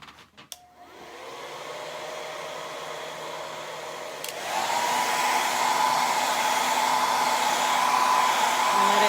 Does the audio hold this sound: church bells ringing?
no